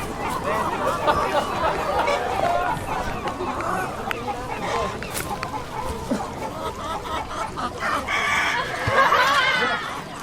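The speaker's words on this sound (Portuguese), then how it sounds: "grasnar de marrecos, cantar de galos, cacarejar de galinhas" Barnyard fowl chorus of roosters crowing and hens clucking in a busy courtyard, continuous and fairly dense with overlapping calls, a louder crow rising near the end; ducks are not clearly distinct.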